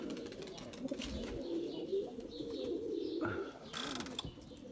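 Soft, low pigeon cooing repeats in murmuring phrases close by, with faint clicks and rustling in the background.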